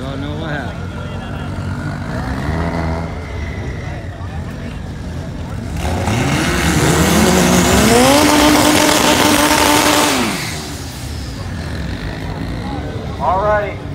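A 1995 Mitsubishi front-wheel-drive import drag car revs and launches at a drag strip, its engine screaming up through gears in a loud burst before fading, with a crowd and announcer talking throughout.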